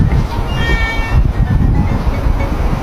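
Cat meows ring out several times over a busy, noisy background with a low rumble and some voices.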